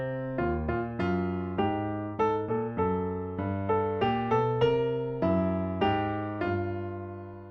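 A bassline built from random chromatic scale notes, played as a string of separate low piano-like notes in an uneven rhythm, each struck cleanly and decaying, close and clear without voices.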